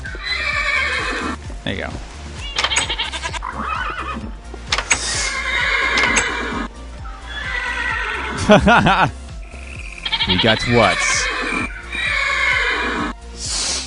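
Horses in Minecraft neigh and whinny over and over, with hoof clip-clops underneath, while players talk over the in-game sounds throughout.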